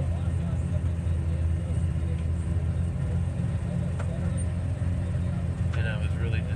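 Combine harvester cutting soybeans in a field, a steady low engine and machinery rumble that drones on without pause, with someone talking over it.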